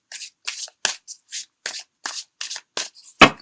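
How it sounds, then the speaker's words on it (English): Tarot cards are shuffled by hand in a slow, minimal style, giving about ten short crisp riffles in a steady rhythm with brief silent gaps, close and clear, with no talking. "I'm not really a flash shuffler like some readers out there."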